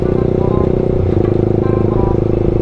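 A Honda CBR motorcycle being ridden in traffic, its engine a loud, close, steady droning hum with a fast pulsing rhythm and a brief shift in pitch partway through.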